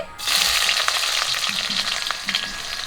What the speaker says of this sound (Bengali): কড়া গরম হয়ে গেছে আবারও সরিষার তেল দিয়ে দেবো পেঁয়াজ কুচি